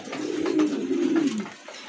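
A pigeon coos in a soft, low, throaty run lasting a moment, close by with nothing else over it.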